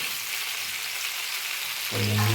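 Drumstick (sojne data) and potatoes frying in a pan for a vegetarian Bengali dish, a steady close sizzle over low-to-medium heat, with a louder burst of hissing near the end.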